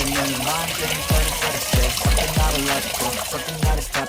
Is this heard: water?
yes